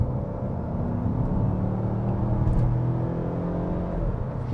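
A Mazda CX-5 SUV drives along a bumpy road, heard from inside as a steady low engine and road rumble with faint whirring, continuous and close, with no talking.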